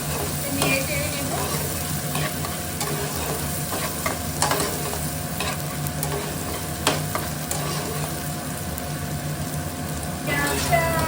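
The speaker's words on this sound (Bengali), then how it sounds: "পেঁয়াজটা ভালোভাবে নেড়ে চেড়ে ফ্রাই করে নিয়েছি।" Onions sizzle steadily in a hot pan as they are stirred and fried, with scattered spatula scrapes and clicks over a constant close crackle.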